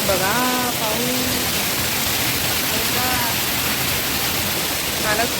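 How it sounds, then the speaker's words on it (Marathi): Heavy rain pours steadily during flooding in Mumbai, a dense continuous hiss close by, with voices speaking briefly over it at the start and near the end. "बघा पाऊस"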